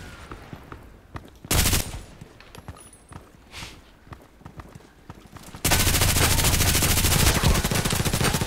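Rapid gunfire exchange in the online shooter Contract Wars, an early loud burst of shots followed by scattered quieter footsteps and movement, then a sustained dense stream of automatic fire close by, with no talk.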